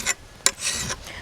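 A file rasps along the edge of a garden hoe in a few short, close strokes, crisp and scratchy with brief pauses between them.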